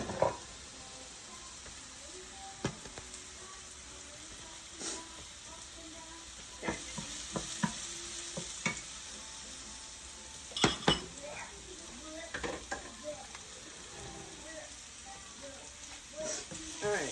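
Beef and broccoli sizzle steadily in a very hot pan, with a spatula scraping and clinking against the metal at intervals. A person talks quietly at times.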